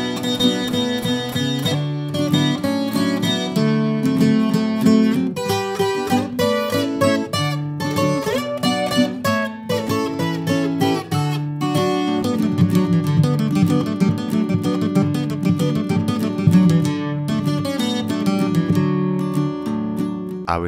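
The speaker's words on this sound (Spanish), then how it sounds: "Vamos a comenzar con este requinto, el cual primero voy a tocar a velocidad normal" Requinto guitar playing the lead line of a song at normal speed, a fast, busy stream of bright plucked notes over steady lower tones, close and loud, with no voice.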